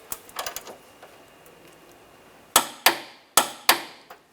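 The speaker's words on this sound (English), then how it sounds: "Tighten that down and torque this to 33 foot-pounds." A torque wrench tightens a fuel tank strap bolt on a 2010-2016 Cadillac SRX, with a cluster of light ratchet clicks, a quiet pause, then four loud, sharp clicks close by, no speech.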